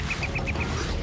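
A bird calls five times in a quick, evenly spaced series of short, nasal, duck-like quacks, fairly close and clear over a low background hum, and then falls quiet.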